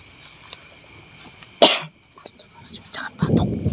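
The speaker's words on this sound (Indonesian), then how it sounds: "Jangan batuk." A single sharp cough bursts out midway through a quiet scene, with faint murmuring voices and soft rustling around it.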